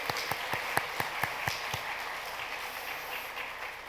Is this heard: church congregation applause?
yes